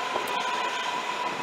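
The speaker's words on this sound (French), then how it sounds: "On attend le métro." A metro train at an underground station, heard as a steady, loud rolling rumble with a sustained tonal whine throughout, continuous and close with no talk.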